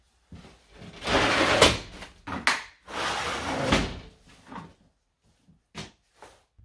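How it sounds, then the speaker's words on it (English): Greenhouse doors being pulled shut in a garden, a couple of scraping, thudding closures with rattling movement in between, close and fairly loud, followed by a few quieter knocks. "now I'm going in, shutting those doors is very important"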